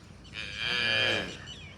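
A single cow moos at a cowshed housing cows and young bull calves, a fairly close drawn-out call that swells and fades over about a second with faint background noise around it.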